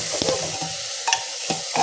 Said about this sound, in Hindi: एक बार थोड़ा सा चला लेती हूँ, फ्लेम अभी हमारा लो है बिल्कुल